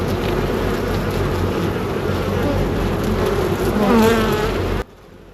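Honey bees swarm around an open hive frame during a hive inspection, a dense continuous buzz close to the microphone that swells briefly before cutting off abruptly near the end.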